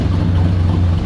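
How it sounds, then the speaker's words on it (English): A 1955 Chevy gasser engine idles roughly and unhappily, giving a loud, close, steady low throb with a slightly uneven pulse. "we got it idling, but you can hear it. It's not really happy."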